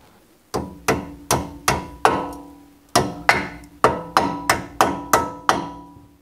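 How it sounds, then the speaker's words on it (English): A small 3-pound hammer seating brake pins on a Mercedes C300 W205 during a brake job: about a dozen sharp metallic strikes in two bursts, close and ringing, with no talk. "I just used a little 3-pound hammer to seat these pins"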